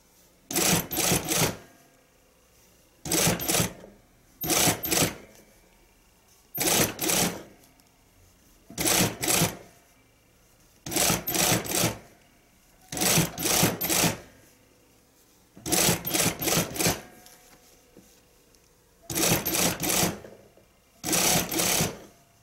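A sewing machine edge-stitches a blouse along a 0.5 cm folded edge, running in about nine quick, steady bursts of a second or so, each separated by short pauses, close and clear with no talking.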